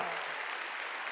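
Applause from a church congregation at a Korean Wednesday worship service, a dense even wash of clapping held steady at moderate loudness for the whole moment, with no talk over it.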